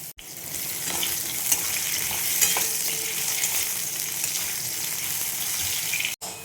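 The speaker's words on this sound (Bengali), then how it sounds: "আর দিয়ে দেবো পাতলা পাতলা আলু। আলু কেটে রেখেছি, এই আলু দিয়ে দিলাম। আলুগুলো ভেজে নেব।" Thinly sliced potatoes frying in hot oil tempered with nigella seeds, a constant bright sizzle and crackle up close with faint stirring, starting and stopping abruptly, no talking.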